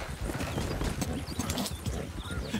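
Horse hooves clip-clop steadily on hard ground, a brisk walking rhythm close by with some background noise.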